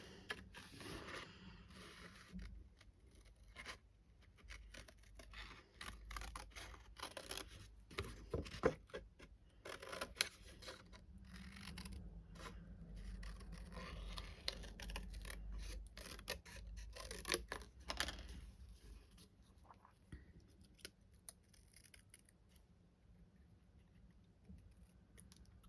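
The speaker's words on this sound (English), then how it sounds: "Fussy cutting around the words." Scissors snip and rustle through paper card stock while fussy cutting around printed words for a card-making craft, a close, steady run of small crisp cuts and paper scrapes with no voices.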